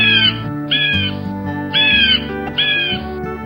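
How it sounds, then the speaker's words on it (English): An eagle gives three loud, harsh, screeching calls in a row, each about half a second long with brief pauses between, over a steady low rumbling background. "Eagle."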